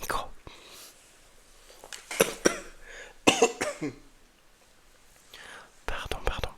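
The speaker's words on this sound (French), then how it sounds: "je vais tousser donc je vais me reculer du micro" Several coughs from one person set back from the microphone, sharp bursts scattered among soft whispered speech in a quiet room.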